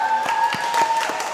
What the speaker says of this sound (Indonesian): Kita beri tepuk tangan juga untuk mereka.